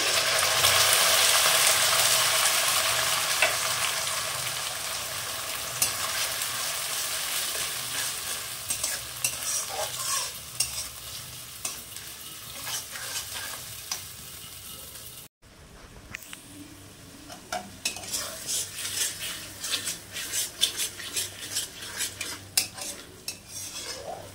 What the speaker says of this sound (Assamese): মছলাখিনি ভাজি ললো মছলা ভাজা হৈ গ'ল